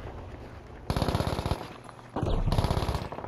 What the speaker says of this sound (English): I shot that guy like over 100 times